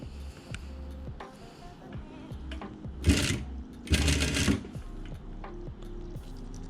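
A sewing machine stitches a baby hem on silk at slow speed. Two short, close bursts of whirring run over a quiet room background, with small clicks and thumps between them.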